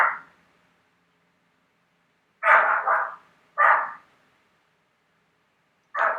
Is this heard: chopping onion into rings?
no